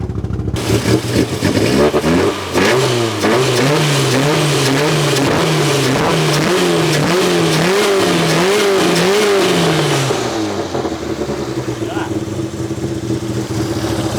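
A Toyota 4E-FE engine, naturally aspirated, revs hard on a dyno during a maximum horsepower run, its loud rasping note climbing and dipping in repeated surges before settling to a steady lower drone near the end.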